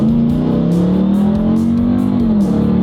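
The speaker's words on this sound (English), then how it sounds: "In the meantime, this truck does have an exhaust on it." Ram TRX pickup truck with a valveless aftermarket exhaust, loud close-up revving as a deep burbling drone rises and falls in pitch over a few seconds.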